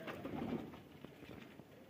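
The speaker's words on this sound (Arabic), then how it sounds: "هسه شباب ما طول اجى الحمام" Pigeons arriving at a loft give soft low cooing calls, faint and close amid light outdoor background noise, with a few scattered bird sounds.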